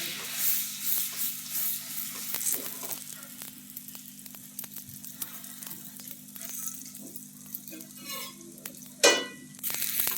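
Pav bread sizzles as it toasts in hot butter on a pan, a steady close frying hiss with occasional scraping and stirring clicks, one louder scrape near the end, no talking.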